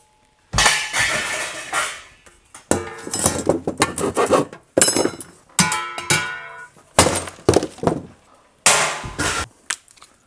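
Metal kitchen pots and pans thrown onto an aluminum scrap pile, loud clattering crashes and rattling clanks in several bursts with short pauses between, close by and with no talking.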